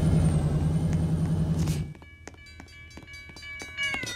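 Train running in a railway video game, a steady low rumble with rhythmic clacking for the first two seconds, then a quieter passage of sharp repeated clicks and tonal hums, with no talk.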